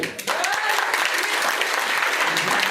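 Loud, dense applause from a crowd, steady and sustained throughout, with a faint voice briefly audible near the start.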